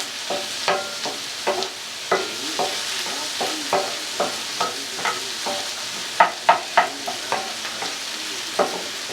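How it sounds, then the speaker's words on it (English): Potatoes tossed back into a hot pan of frying steak for tacos, stirred with repeated scraping clacks over a steady sizzle, close and fairly loud, no voices. "So let's put our potatoes back in. Give them a good mix."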